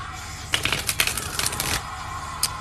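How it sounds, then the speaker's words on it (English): Cards riffle and flutter in a quick shuffle, crisp and close, over a steady background hiss. "This is really hard to shuffle"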